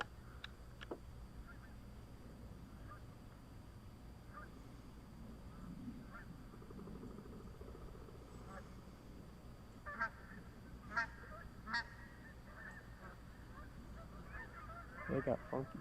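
Lesser Canada geese honk during a goose hunt in Virginia, mostly distant and faint over a low outdoor rumble, with scattered calls building into clearer bursts of honking near the end.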